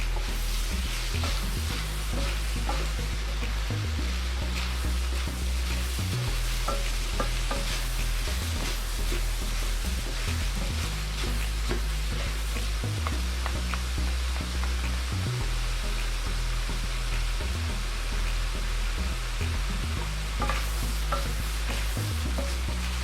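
Meat and onions sizzle and fry in a pan without oil for samosa filling, with a dense continuous crackle and periodic scraping stir strokes repeating in a steady rhythm throughout.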